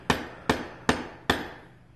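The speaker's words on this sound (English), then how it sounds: "the inner bearing is hidden behind this seal that you need to hammer out or chisel out" Four sharp metallic hammer blows drive out the inner wheel hub seal on a Mercedes W220 S-Class, landing at a steady pace, each ringing briefly before the next strike, close and fairly loud.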